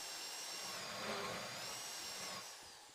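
A power drill bores steadily through a bank vault in a GTA V heist game, a continuous loud whine and grind with no pauses, slightly fading at the end.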